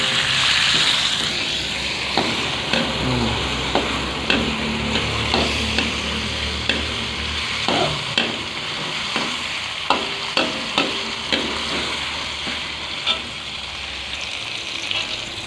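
Kangkung being stir-fried until wilted in a pan for a spicy Javanese chicken-head asem-asem: a steady sizzle under repeated scrapes and clacks of a spatula, close and moderately loud, with no talking.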